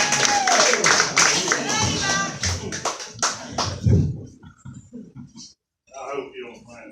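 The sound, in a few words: audience applauding comedian's introduction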